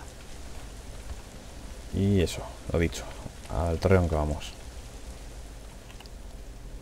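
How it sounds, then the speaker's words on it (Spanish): Rain in the video game Thief, a soft, even hiss of falling rain throughout, with someone talking over it in the middle. "Está lloviendo."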